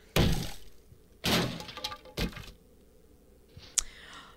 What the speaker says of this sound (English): I'm going to open this working stiff's toolbox